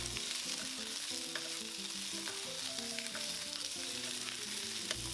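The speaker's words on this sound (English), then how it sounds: "Stir fry until lightly browned for about 5 minutes." Beef shank stir-frying in extra light olive oil over high heat, a steady quiet sizzle with soft scraping stirs throughout, fairly faint and without talk.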